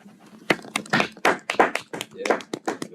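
Uneven hand claps in a tired, irregular rhythm at a charity marathon stream, with voices talking over and between them.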